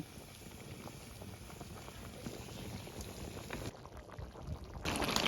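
Liquid bubbles vigorously in a cooking pot while tilapia fish is being prepared, a close, continuous boiling hiss and burble that stays at an even level throughout.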